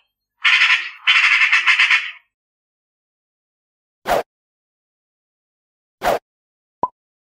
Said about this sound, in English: Magpie. Magpie. Magpie.